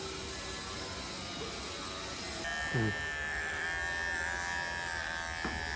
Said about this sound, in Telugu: మిషన్ మిషన్తో పెడితే మంచిగా వస్తుంది సూపర్